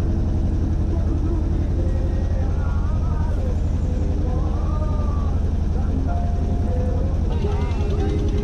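A boat travelling along a river in the Sundarbans toward Karamjal: a loud, constant engine drone with a low rumble fills the whole stretch, with people's voices heard over it.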